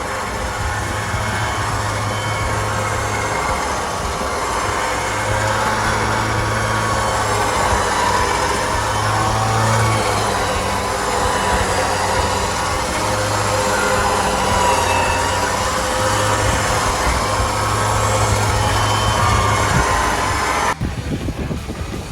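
An electric winch spooling new rope evenly onto its drum sounds as a steady, loud motor whine with a rhythmic low pulsing that runs without a break for about twenty seconds, then cuts off abruptly near the end.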